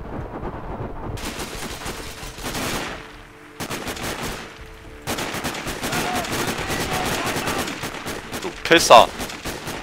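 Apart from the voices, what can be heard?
gunfire in video game Sniper Ghost Warrior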